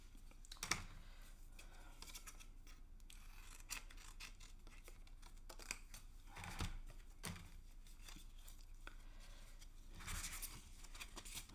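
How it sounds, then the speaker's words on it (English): Scissors snip through a paper craft piece in a live crafting session, a run of close, crisp cuts scattered irregularly across the stretch, with quieter rustling between them and no talk. "Okay, and then let's cut this out."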